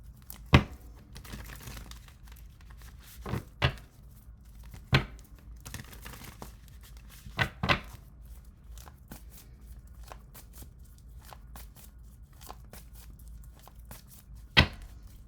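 A tarot deck being shuffled and separated by hand, with soft rustling throughout and several sharp card snaps and flicks at irregular intervals, close and fairly quiet.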